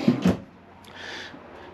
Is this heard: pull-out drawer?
yes